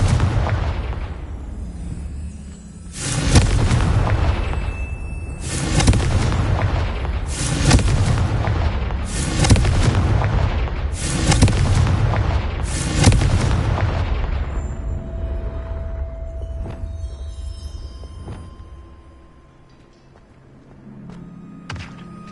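Confringo blasting spells in Hogwarts Legacy go off as six loud, booming explosions in fairly regular succession, each followed by a brief rumbling decay, before quieter magical tones and softer thuds close out the passage.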